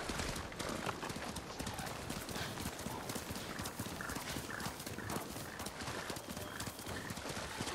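Horse galloping in the video game Ghost of Tsushima, a steady, rapid clip-clop of hooves running throughout, with a whinny heard and faint game ambience beneath.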